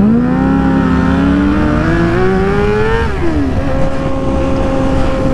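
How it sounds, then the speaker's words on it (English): A sportbike revs hard as its rear tire spins, with a loud, close engine whine that climbs steadily, dips briefly as it shifts, then carries on at a sustained high roar with no speech. "My tire spun the whole way."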